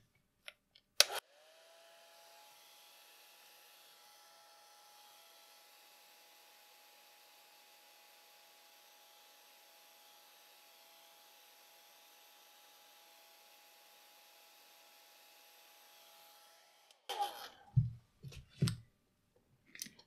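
A hair dryer blows over a watercolor painting of a fawn, switched on with a click and running as a steady, fairly quiet whir for about sixteen seconds, then clicked off, followed by a few handling knocks.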